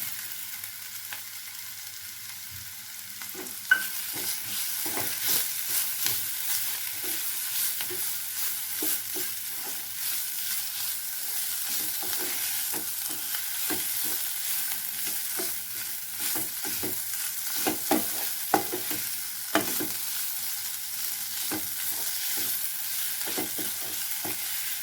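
Sliced potatoes fry in hot oil with mutton masala for potato bonda, a steady close sizzle broken by frequent scraping and stirring clicks of a spoon in the pan, with no voices.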